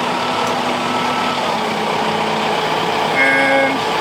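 A new 3560 tractor towing a feeder wagon reverses with a steady, close engine drone, and a short electronic beep sounds near the end.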